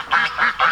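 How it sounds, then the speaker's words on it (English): Three loud, nasal duck quacks in quick succession, close by. "We got more laying hens and ducks too."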